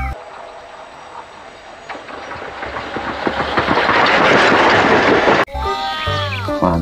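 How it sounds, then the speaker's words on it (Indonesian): A toy Thomas train runs along its track with a steady mechanical whir and rattle that builds in loudness, then a sudden cut to a brighter electronic tune or whistle sound near the end. "Dan ini yang berwarna merah ada kereta James"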